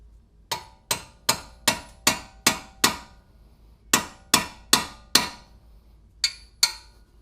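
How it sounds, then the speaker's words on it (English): Hammer driving a wedge during a 2002-2006 MINI Cooper coilover install: about fourteen sharp metallic strikes in a steady rhythm, grouped in two runs with a short pause between, close and loud. "hammer a wedge in there."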